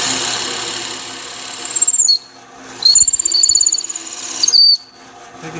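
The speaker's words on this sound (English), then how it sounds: "And you're drilling it out." Loud, continuous drill press whine with a high squealing whistle as it drills out a whistle blank, pausing briefly twice and starting again, close by.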